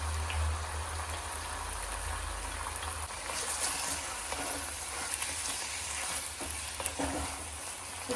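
Chicken liver and heart pepper fry sizzles steadily in a pan with no water added, giving a dense, continuous hiss with occasional stirring clatter, close and even throughout.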